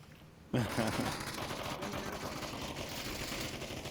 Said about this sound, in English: A lot of smoke, a lot of gunfire.